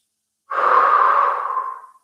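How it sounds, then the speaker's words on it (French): A single deep breath during a yoga chest-opening exercise, close and clear: a long airy exhale that swells quickly and then fades away gradually over about a second and a half, alone in silence. "Trois respirations."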